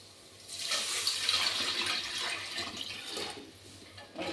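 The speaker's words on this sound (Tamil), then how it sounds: "இப்போ நம்ம ரெடி பண்ணி வச்சிருக்க ரசம் தண்ணியை சேர்த்துக்கலாம்" Rasam water poured steadily into a pan, a rushing splashing flow that swells then tapers off, close and fairly quiet.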